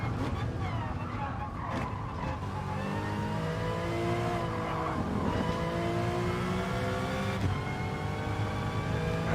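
A GT Sport race car engine revs hard through repeated rising sweeps, with sharp drops at each gear change, during a cautious lap in a daily online race, steady and close with a voice talking over it.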